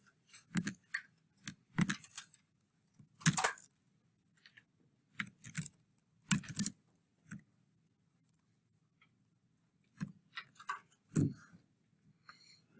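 Sparse clusters of computer keyboard keystrokes, crisp close clicks in short bursts separated by silent pauses, as an equation is typed into a graphing calculator website.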